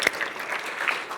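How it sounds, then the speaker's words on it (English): Conference audience at a UCLA Anderson panel on entertainment and inclusion applauding, a moderate, fairly even spatter of clapping heard from a middle distance, fading slightly toward the end. "Round of applause for you guys coming out here."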